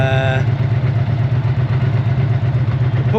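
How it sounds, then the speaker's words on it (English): A barn-find 1984 Honda V65 Magna VF1100C motorcycle engine runs rough, as if starved of fuel. The close, loud, steady idle throbs with a low pulsing hum and no voices. "the bike started on the first turn, but it just doesn't sound right"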